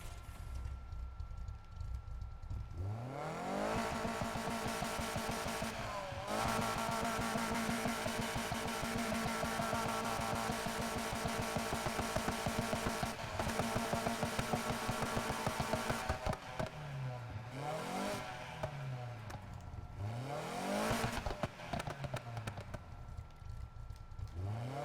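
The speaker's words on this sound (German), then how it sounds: "Auspuff-Sound? Oh." A car from Need for Speed Heat revs its engine and exhaust in repeated rising and falling sweeps. The rasping tone holds for long stretches and swoops up and down near the end.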